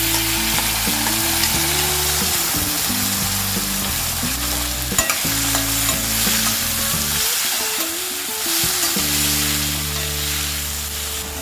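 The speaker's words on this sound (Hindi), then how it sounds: "हमने 5 मिनट तक टमाटर को मीडियम फ्लेम में फ्राई कर लिया है।" Tomatoes fry over medium flame for a South Indian style chutney, a loud steady sizzle with repeated stirring and scraping in the pan, briefly easing before resuming, no voices.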